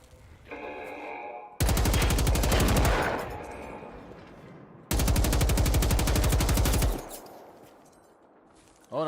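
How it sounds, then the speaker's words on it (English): Machine guns in Generation Zero fire two long, loud, steady automatic bursts of a couple of seconds each, with quieter gaps between them and a faint tone before the first burst. "Oh no, machine guns."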